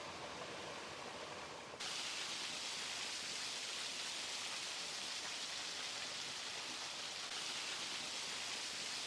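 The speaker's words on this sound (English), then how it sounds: "It's a really pretty waterfall." Steady rushing water from a waterfall pours continuously, a dense broadband roar that grows slightly louder after the first couple of seconds, with no voices, in the Great Smoky Mountains.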